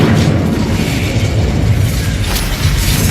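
A fiery Incendio spell blast erupts in Hogwarts Legacy as a loud, sustained roaring burst of flame that fills the whole moment with dense rumbling energy.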